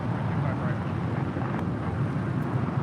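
American Airlines A321T transcontinental jet taking off from runway 25 right at LAX, a loud, steady broadband engine roar held throughout with rumbling low end and no clear talk over it.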